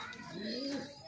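A soft, rolling coo from a pigeon on a pigeon farm in winter, a single short call heard close and fairly quiet.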